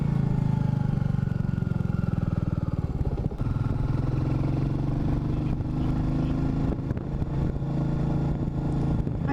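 A Royal Enfield Meteor 350 motorcycle on the move, its single-cylinder engine thrumming steadily with a brief dip in revs and rise again, close and loud, with some vibration and road clatter.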